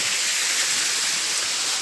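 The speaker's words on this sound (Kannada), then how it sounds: "ಸೊ ಹಿಂಗೆ ನೀರು ಬೀಳಾಕೈತಿ" Water spilling down a small waterfall at a littered outing spot, a steady, dense broadband rush with no breaks, close and fairly loud, and no voices over it.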